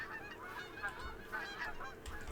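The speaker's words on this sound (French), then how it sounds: "La bénache de Canada est une espèce de grande oie populaire pour la chasse en Europe." A Canada goose in the hunting game theHunter: Call of the Wild gives a string of loud, close honks that repeat steadily over a faint outdoor background.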